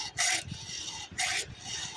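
A hand file rasps across chainsaw chain teeth in two firm close strokes, each a harsh scraping burst separated by lighter rubbing.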